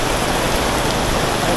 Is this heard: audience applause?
no